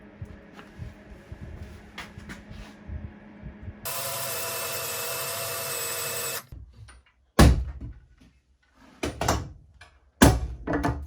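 Power drill driving an auger bit through a hardwood door, a steady loud whirring burst of about two seconds, surrounded by sharp clunks and knocks of workshop handling.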